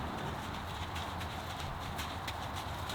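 Horse hooves clip-clop softly and evenly beneath a steady hiss of rain or wind outdoors, as horses move around together during rainy-weather playtime.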